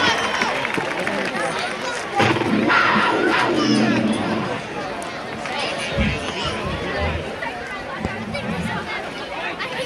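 Fans at a high school football game at Morehead roar and cheer at halftime, a loud crowd surge with shouts, applause and babble swelling and easing over several seconds.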